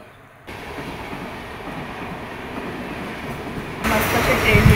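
A Mumbai local train heading to Dadar rumbles and rattles steadily from the inside, with a sharp rise in clatter and noise near the end.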